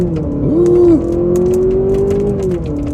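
A 2024 Honda Accord Hybrid Touring pulls away from a complete stop, its motor rising in a smooth whirring tone that climbs, dips briefly and climbs again, heard from inside the car with no voices.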